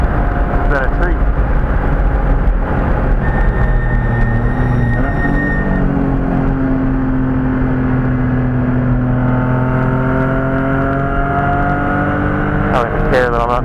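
BMW M3 E36 Lightweight on the Thermal Club track, its engine droning steadily and close, the pitch sliding gently up and down as it cruises, with a person talking over it.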